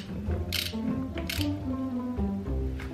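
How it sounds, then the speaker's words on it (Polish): Ratchet loosening a star nut on a quad engine, with bursts of metallic clicking over a steady mechanical drone in a workshop. "Dobra, odkręcamy tu gwiazdeczkę tą całą."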